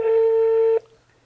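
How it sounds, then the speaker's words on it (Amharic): A steady electronic telephone ringback tone sounds for under a second on an outgoing call placed to a television viewer, then cuts off abruptly, leaving faint room noise. "እየጠራ ነው።"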